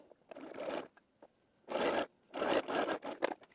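A sewing machine stitches the shoulder seam of a wrap dress in short close bursts of whirring, separated by brief pauses and fabric handling.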